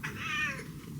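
A cat gives a single short, fairly faint meow as it asks for food at breakfast time, a brief nasal cry close by with no talking.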